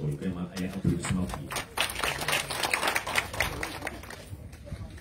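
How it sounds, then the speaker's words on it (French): Scattered hand clapping from a small group at a French-speaking gathering, a loose patter of claps running for several seconds beneath a talking voice. "il y a un applaudissement"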